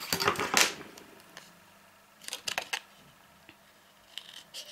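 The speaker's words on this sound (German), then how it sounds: "Ich verwende da ganz normal die Papierschere auch dazu." Paper scissors snip paper in a few short, crisp bursts separated by quiet pauses, close and fairly soft, as small rectangles are cut away while making a box with a viewing window.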